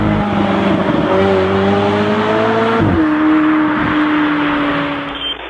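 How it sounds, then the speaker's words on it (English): A McLaren 720S with a QuickSilver asymmetrical crossover exhaust holding a loud, sustained rev with a shift in pitch partway through, close and steady before easing off at the end. "we have an asymmetrical crossover pipe which increases the transient sounds and really delivers a beautiful sound for your 720S."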